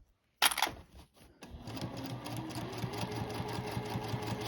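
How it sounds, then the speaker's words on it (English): A sewing machine stitches fabric along a quarter-inch seam line, starting after a sharp click and a short pause, then settling into a fast, even mechanical chatter heard up close with no talking. "We got a couple stitches, then we're gonna back stitch."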